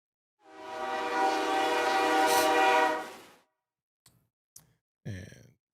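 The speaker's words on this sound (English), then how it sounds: "I'm trying to see that train." A train passes with a loud, sustained horn that swells for about three seconds and then cuts off, followed by a few brief faint clanks and knocks.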